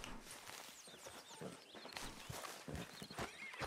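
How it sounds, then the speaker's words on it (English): Horse hooves clip-clop steadily in a Wild West video game, with the horse whinnying and neighing over the hoofbeats, fairly close and continuous with no talking. "I need to fix my horse's hooves."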